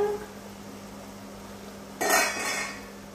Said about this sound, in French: Là, je vais maintenant couvrir 5 à 10 minutes.